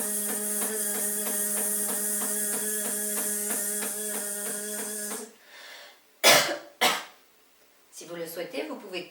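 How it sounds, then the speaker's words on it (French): A long, steady buzzing hum fades out, followed by two sharp coughs close by, then some soft throat and breathing sounds, during a Qi Gong breathing exercise. "vous pouvez tousser à la fin pour sortir l'énergie usée"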